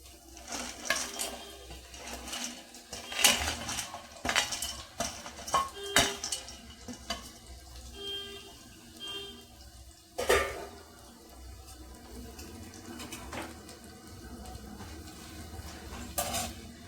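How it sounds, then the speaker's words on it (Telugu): Bitter gourd pieces fry in hot oil in a pan, a soft sizzle under repeated scraping and clanking of a spatula stirring against the pan, with sharp metallic knocks scattered across the stretch. "ఇప్పుడు మనం ఈ కాకరకాయ ముక్కలు ఏవైతే ఉన్నాయో వాటిని ఇందులో వేసుకొని ఫ్రై చేద్దామండి."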